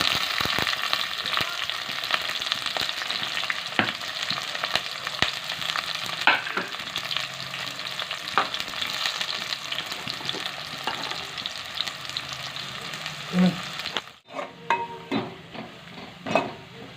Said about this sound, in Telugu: తాలింపులు వేసుకుంటున్నాం.